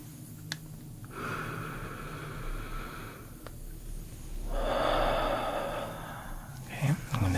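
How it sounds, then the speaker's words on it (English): Slow, close nasal breaths in a quiet room, with a long breathy inhale through the nose followed by a second, stronger drawn-in breath and a soft exhale, intimate and unhurried. "I'm gonna place it up to your nose, and you're just gonna inhale"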